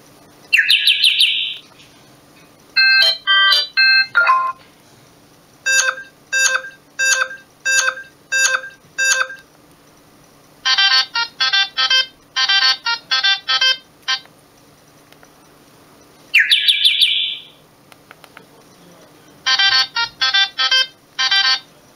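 A bright, repeating electronic ringtone from an F+ B280 mobile phone plays in several bursts of rapid chirpy tones, pausing briefly between phrases, loud and clear with no talking.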